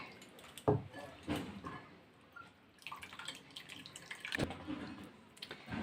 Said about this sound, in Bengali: এভাবে মূলোটাকে পুরো নিংড়ে আমি নিয়ে নিচ্ছি